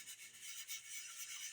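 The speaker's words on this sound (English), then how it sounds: "you're going to do a little bit of swirl sanding, just the pearl" Guitar pearl inlay gets gentle swirl sanding with 220 grit sandpaper, producing faint, close, continuous rubbing hiss with a soft, uneven circular rhythm and no talking.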